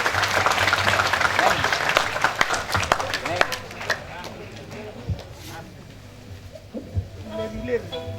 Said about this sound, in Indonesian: Tepuk tangan untuk Kiai Kanjeng